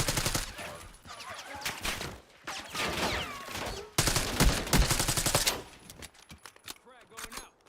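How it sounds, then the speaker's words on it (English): Gunfire in the video game Call of Duty Black Ops 6, dense bursts of rapid shots and explosions that come and go over several seconds, loud and near. "HVT is taking fire."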